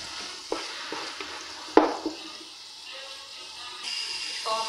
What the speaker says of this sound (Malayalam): പച്ചമുളക്, ഇതൊരു ഗോൾഡൻ കളറാവുന്ന വരെ നമുക്കിതൊന്ന് വഴറ്റി എടുക്കണം.